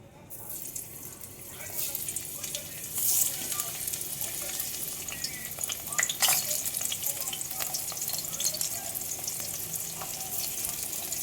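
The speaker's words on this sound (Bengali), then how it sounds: "এখন এই তেলে কাঁকরোলগুলো ভেজে নেবে" Teasel gourd pieces fry in hot oil with a steady, loud sizzle and bubbling hiss that continues throughout, with a few brighter crackling bursts and faint stirring scrapes.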